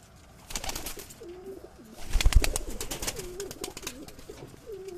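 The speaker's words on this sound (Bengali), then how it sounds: "এই লক্কাগুলো হুটোপাটা করে বেড়াচ্ছে" Fantail pigeons coo in repeated low, rolling calls in a breeding loft while bursts of wing flapping and fluttering come and go close by.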